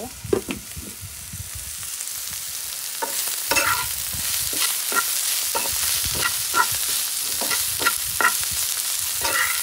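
Bitter gourd and shrimp fry in a hot pan with a steady hiss, broken by a series of sharp spatula scrapes and knocks that come in irregular bursts throughout, close and fairly loud.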